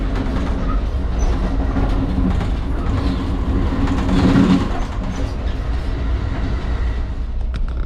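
The Amtrak Coast Starlight rolls along the rails toward Los Angeles, with a low, continuous rumble and faint rhythmic clatter heard from inside the car, steady and moderately loud throughout.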